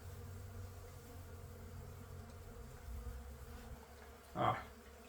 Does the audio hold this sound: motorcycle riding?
no